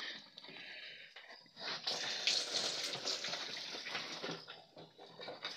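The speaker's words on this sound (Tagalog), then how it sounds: "So, lagyan na natin ng tubig mga sugod." Water pours and splashes into a pig feeding trough on a farm, a steady gushing wash that swells for a few seconds and then eases off, with faint snorting animal noises around it.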